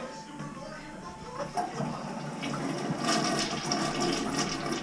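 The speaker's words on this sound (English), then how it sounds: "That one flushed it?" A clogged household toilet flushes with a rising rush of water that builds and stays loud through the second half, while people talk nearby.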